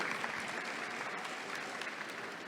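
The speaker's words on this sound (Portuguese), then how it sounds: "Aplausos." Sustained clapping from an audience greeting poets at a book fair event, an even, continuous patter of many hands at moderate level with no talk.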